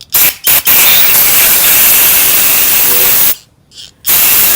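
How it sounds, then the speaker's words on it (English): Brake cleaner sprayed from an aerosol can into a VTEC solenoid from a Honda engine: a loud, close, sustained hiss after two brief opening squirts, cut off briefly near the end before resuming. "So you just want to get some brake cleaner"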